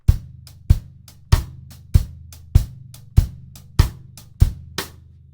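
A drum kit groove lays down a steady pulse of nine sharp, evenly spaced hits, each a punchy low thump with a bright crack on top, recorded close and loud with short decays between strikes.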